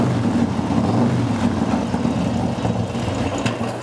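S&S T-Series engine with Easy Start cams, fitted to a Harley-Davidson motorcycle, running at a steady low idle with a continuous rumble and no clear speech over it.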